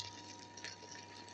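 Water pours steadily into a cooking pot in a home kitchen, a continuous close splashing fill with no talk.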